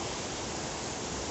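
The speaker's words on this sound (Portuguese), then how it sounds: "hoje aqui na Cachoeira da Andorinha" Dense, constant roar of a waterfall at Cachoeira da Andorinha in Brazil, loud and close, an unbroken wash of rushing water with no voices.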